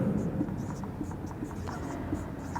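Pen strokes scratch softly across paper as notes on the larynx's shield-shaped cartilage are handwritten during a respiratory anatomy lesson, a faint and continuous scribble over steady background hiss.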